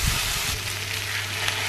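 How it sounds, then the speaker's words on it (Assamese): Onions sizzle in hot mustard oil in a pan, a steady close-up frying hiss with a faint low hum underneath and no voices. "ইয়াত পিয়াজ অলপ দি দিলো আৰু পিয়াজখিনি ব্ৰাউন কালাৰ হোৱালৈকে অলপমান ভাজিম"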